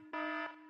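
A brief electronic alarm tone, a red-alert style buzz, sounds as one steady harmonic blast of about a third of a second and is fairly faint, with no talking.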